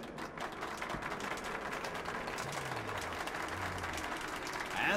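Crowd cheering and applauding at an exhibition show in the video game Metro: Last Night, a dense steady clapping wash with a few low mechanical tones underneath and a louder swell at the end.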